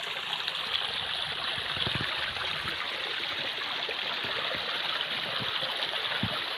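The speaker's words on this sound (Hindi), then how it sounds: "कितना पानी है तेजी से बह रहा है" Fast river water on the Narmada rushes steadily and close by, a dense continuous hiss and gurgle with no voices over it.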